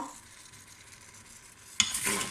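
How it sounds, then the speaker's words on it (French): Spices being stirred with a little water in a Cookeo pot on its browning mode: a faint low sizzle, then a sudden louder burst of bubbling and scraping near the end, with no voices. "Et je mélange."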